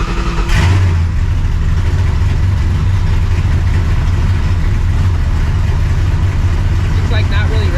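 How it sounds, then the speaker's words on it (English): Procharged New Edge Mustang GT with a non-adjustable cable fitted, starting up with a sharp burst then settling into a loud, steady, rumbling idle close by, with a person talking over it. "let me go ahead and start this car up"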